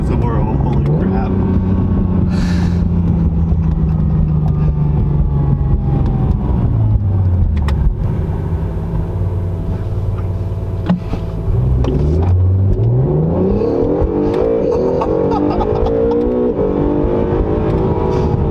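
A 2019 Acura NSX accelerates hard from inside the cabin, its engine note climbing in repeated rising sweeps through gear changes, loud and continuous throughout.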